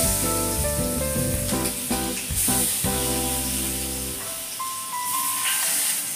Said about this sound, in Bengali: মাছগুলো এবার ভেজে নেব বলে।